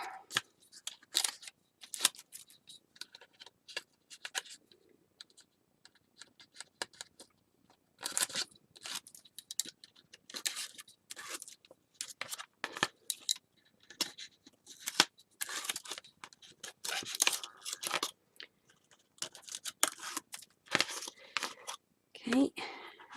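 Adhesive tape backing being peeled off a mini album cover during papercraft work gives repeated crisp crackling strips and scrapes in short bursts, fairly close, with pauses between pulls.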